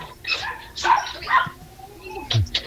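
A dog gives several short, yappy barks and whimpers in uneven bursts, fairly close, with a final low bark near the end.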